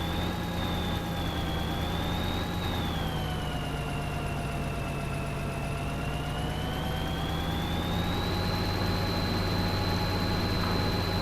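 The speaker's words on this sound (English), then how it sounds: "The tractor that you see that I have now is actually probably my favorite tractor in the game." A tractor engine drones steadily in Farming Simulator 2013, a constant loud motor hum with slowly rising and falling pitch as it drives across a field.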